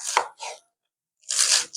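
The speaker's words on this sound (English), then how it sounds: "So I'm going to start cutting my onion and chopping my green onions." A knife chops onion and green onions on a cutting board for Asian-inspired spaghetti: a few crisp, close cuts, two quick ones, a pause, then a longer crunching stroke and another.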